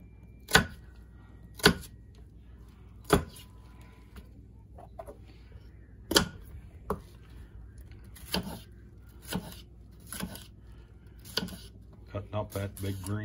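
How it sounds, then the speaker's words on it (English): A knife chops a big green pepper on a board in sharp, separate strikes spaced a second or two apart, and the strikes come closer together near the end, with quiet background noise between them. "Cutting up that big green pepper."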